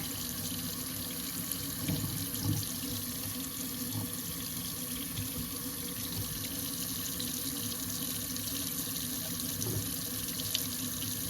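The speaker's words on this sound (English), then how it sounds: "splashing everywhere." Water runs steadily from a tap and splashes continuously into a sink while rinsing a craft stencil, a constant broadband rush with a few small bumps along the way.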